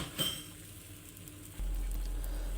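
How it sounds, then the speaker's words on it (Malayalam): Salted whisked egg is poured over filling in a hot pan: light clinks come first, then a soft sizzle, and a louder, steady hiss takes over partway through. "ഈ ആക്കി വെച്ച ഫില്ലിങ്ങിൻ്റെ ടോപ്പിലാണ് ഞാൻ ഒഴിച്ചു കൊടുക്കുന്നത്"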